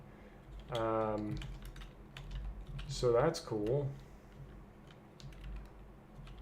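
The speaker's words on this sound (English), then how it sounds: "we actually are capable of typing tonight" Fast clicking keystrokes on a computer keyboard patter on through a quiet room, with a short stretch of nearby speech over the typing.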